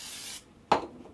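A spray paint can hisses steadily for under half a second, then stops, followed by a short sharp metallic clack close by.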